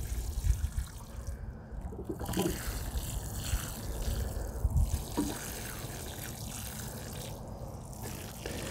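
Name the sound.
watering new strawberry plants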